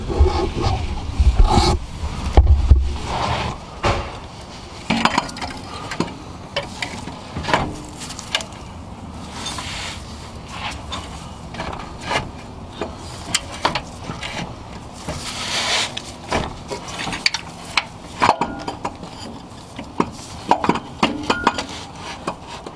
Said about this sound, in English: we're going to go ahead and focus on reinstalling the AC compressor with the 4 14mm long bolts